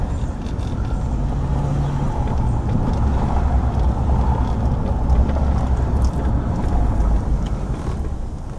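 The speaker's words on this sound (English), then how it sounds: "Not very many brick roads left in Beaver County. Driving one right now." A car drives over an old brick road in Beaver County, Pennsylvania, with a steady, loud low rumble and a continuous rough texture from the tires across the bricks throughout.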